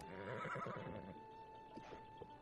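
A horse in the video game Zelda: Breath of the Wild gives a clear, bright whinny with a falling, wavering call, followed by a few soft hoof clops, alone and mid-distance.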